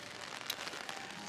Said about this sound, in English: rainy evening.